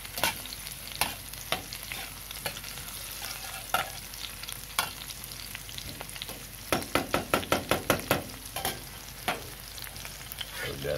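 Spice paste sautéing in a hot pan, a steady sizzle broken by clacking spatula strokes that quicken into a fast run of stirring scrapes near the end, close and fairly loud with no voices.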